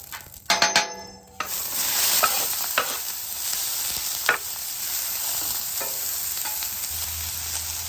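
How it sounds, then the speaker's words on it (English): Steady sizzling of vegetables sautéing on a hot griddle for steak fajita nachos, with a brief metal clatter at the start and occasional scrapes from stirring. "I'm just looking for a good saute on these vegetables."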